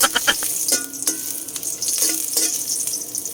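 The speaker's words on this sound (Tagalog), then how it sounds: "gisahin na natin yung ating lamas. Yung ating luya." Ginger sautéing in hot cooking oil for a mussel tinola dish, with a steady sizzle and a few sharp stirring scrapes and clinks near the start, close by and moderately loud.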